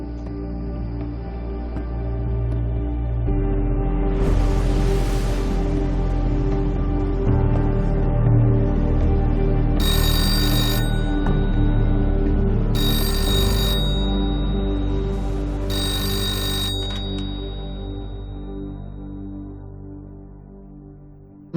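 A telephone bell rings in three short bursts, spaced a few seconds apart, over a loud sustained musical drone and low rumble that fill the whole stretch.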